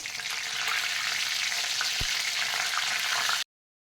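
Cumin, mustard seeds, two kokum pieces and curry leaves hit hot oil for a tempering, a steady, close crackling sizzle with one soft thud before it cuts off abruptly.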